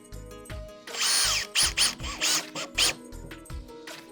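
A power drill drives standard 30mm screws into Millboard cladding at a corner joint, several short bursts of whirring, with quiet gaps between them.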